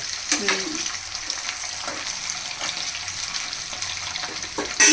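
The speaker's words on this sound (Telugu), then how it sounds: "మీరు తీసుకునే దాన్ని బట్టి మీరు ఎగ్స్ వేసుకొని ఫ్రై చేసుకోండి" Eggs fry in a wide pan with a steady, soft sizzle throughout, with a few light clinks and stirring sounds and a brief louder clatter near the end.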